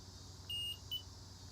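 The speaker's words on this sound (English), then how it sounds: "as you approach level, it'll beep and then it'll change tones if you go past" A Stabila digital level gives two short electronic beeps at a steady high pitch as it approaches level, the first longer than the second, against a quiet background hum.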